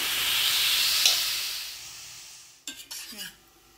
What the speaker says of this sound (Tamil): இதை அந்த நெய்க்கு கூட நம்ம ஒரு 5 மினிட்ஸ் நல்லா வதக்கிக்கணும்